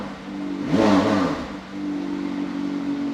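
A McLaren 720S supercar engine blips once in a sharp, rising rev close by, then drops back to a steady, throbbing idle with no voices.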